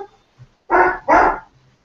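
A dog barks twice in quick succession, close and fairly loud, with quiet gaps before and after.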